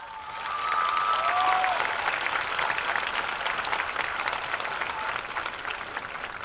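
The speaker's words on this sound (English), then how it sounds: "Please give these outstanding educators a round of applause." A high school commencement audience applauds the educators, a broad, sustained roar of clapping that swells within the first second and holds steady, with a faint whistle-like tone early on and no speech.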